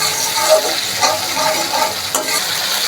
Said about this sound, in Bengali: টক দই দিয়ে আরও ভালোভাবে একটু কষে নিতে হবে